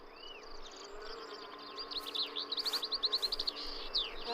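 Insects buzz around nectar-rich flowers on a warm, sunny day, a steady faint drone that swells into a rapid pulsing flutter, with faint bird chirps in the background and no talking.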